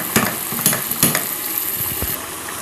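Margarine and chopped cilantro sizzle in a hot pan with a constant fry hiss, broken by a few sharp clicks and scrapes of stirring, close and fairly loud with no talking.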